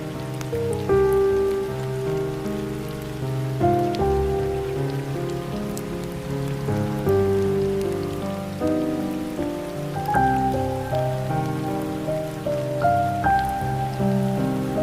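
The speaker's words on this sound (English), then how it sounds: "It's rainy out" Steady rain falls outside a cottage, a constant even patter that runs under gentle melodic tones throughout, with no voices.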